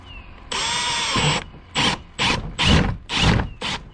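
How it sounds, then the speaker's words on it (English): A power drill bores a hole through the hull of a NuCanoe Unlimited canoe, one steady whirring run followed by several short rhythmic bursts of the motor, close and loud with no talk. "Put our drill bit in the center of that dimple and drill it out."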